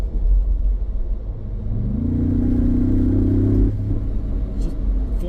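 A 2025 Ford Bronco's engine and exhaust swell into a single close, loud rev that holds for a couple of seconds before dropping back to a deep idle rumble.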